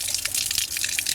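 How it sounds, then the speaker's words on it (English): Outside garden tap with water trickling and splashing out in a continuous wash, a couple of sharper drips standing out, close and moderately loud with no talking. "Why has water suddenly started gushing out of there?"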